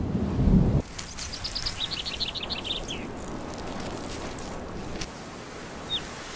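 A heavy low rumble of thunder breaks off into steady rain hissing on surfaces, with bird chirps trilling over it and one brief distant call near the end; no talk.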